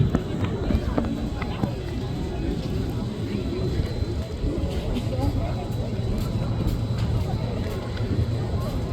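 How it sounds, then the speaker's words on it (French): An Airbus A400M Atlas military transport slows for a steep tactical approach over the seafront at Palavas-les-Flots, giving a low, continuous engine rumble under a commentator's voice over loudspeakers. "À présent, l'Atlas ralentit environ 115 nœuds, c'est-à-dire à peu près 210 km/h, pour effectuer devant vous une approche type grande pente"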